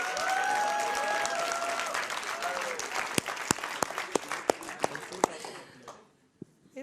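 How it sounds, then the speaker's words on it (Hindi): Studio audience at a Hindi TV debate show clapping loudly and steadily, with a few sharp individual claps standing out near the end before the applause fades into near silence. "ये जितने ताली बजा रहे हैं ना, गिन लो इनको"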